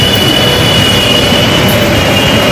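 A metro train roars loudly at a station platform, a dense continuous rumble with a faint high whine from the wheels and no break.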